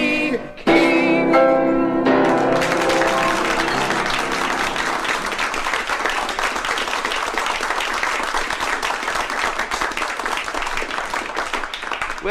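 The last sung notes of a Gilbert and Sullivan–style comic song give way to loud, sustained applause from a theatre audience, a dense rush of clapping that carries on to the end.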